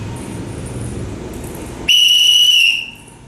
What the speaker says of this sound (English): once again the watchman blew the whistle